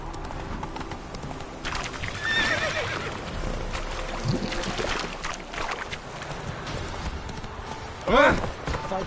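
Roach the horse from The Witcher 3 gallops with steady clip-clop hoofbeats under ambient game sound, with a sharp, loud whinny rising near the end.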